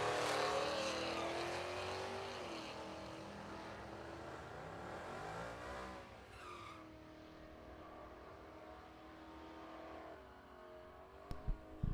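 Drag race cars, among them a 1978 Mustang, roar loudly and fade as they pull away down the strip, engine note sweeping downward, followed by quieter background and a few sharp knocks near the end.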